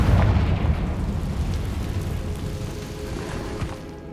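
A Confringo blasting spell explodes in the video game Hogwarts Legacy, a loud deep rumbling boom that swells at the start and slowly fades into a long low roar.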